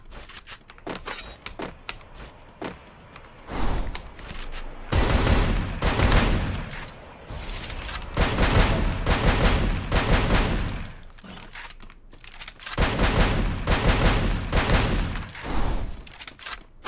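Rapid bursts of gunfire from the shooter video game Free Fire, with clusters of shots that come and go across the clip, loud and dense in stretches with brief quieter gaps between volleys.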